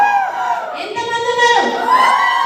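An audience of girls shouts and cheers together in a loud, ragged burst of high voices that rises and falls over a couple of seconds.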